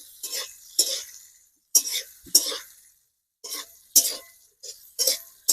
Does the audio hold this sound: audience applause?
no